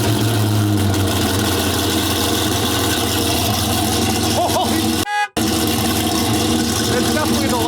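A Venom F5's twin-turbo LS V8 idles after a cold start, a loud steady low rumble with a brief sharp burst near the end, with voices faintly audible.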